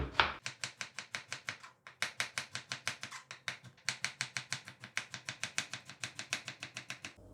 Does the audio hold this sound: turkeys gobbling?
no